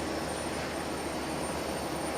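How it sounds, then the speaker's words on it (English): A Peach airliner sits near the runway at Nagasaki Airport before its takeoff roll, its engines making a steady broadband roar with a faint high whine. The sound is distant and constant. "I can see Peach is getting set to do its takeoff roll"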